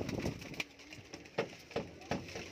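Teddy cross kalsira pigeons coo in several short, soft calls at a loft during a pigeon sale, with faint voices in the background.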